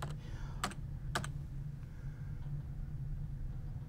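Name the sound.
typing a search term on a computer keyboard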